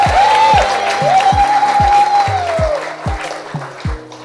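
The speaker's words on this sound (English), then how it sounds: "Women cheer for other women." An audience at a women's leaders breakfast applauds and cheers for a Lifetime Achievement Award winner, a steady wash of clapping with a voice whooping over it, while low rhythmic thumps of music pulse underneath.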